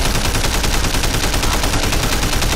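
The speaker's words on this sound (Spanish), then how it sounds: "disparo aquí a Melete y no doy a nada." Gunfire in the Sleeping Dogs video game: a dense, continuous barrage of rapid shots that stays loud and steady throughout, with no talk over it.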